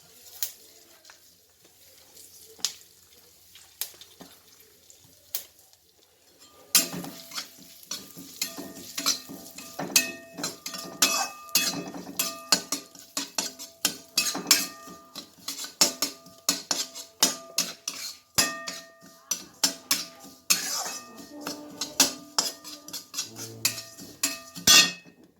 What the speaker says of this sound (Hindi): तिल को भी उसी कढ़ाई में डाल के भूंज लूँगी